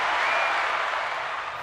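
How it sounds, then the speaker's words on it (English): A steady round of applause from an audience, dense continuous clapping that stays fairly loud and fades slightly toward the end. "give him a round of applause, man"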